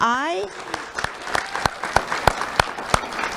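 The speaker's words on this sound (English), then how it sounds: "So give them a great round of applause." Audience at a community awards ceremony breaking into applause right after a brief spoken phrase, clapping building into a loud, steady round of individual claps.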